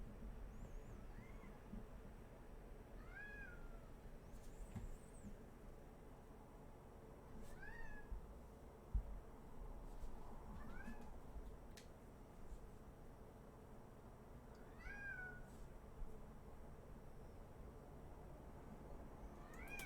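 A cat meowing from behind a closed door, repeated plaintive meows every couple of seconds, muffled and faint over a low room hum, with no talk.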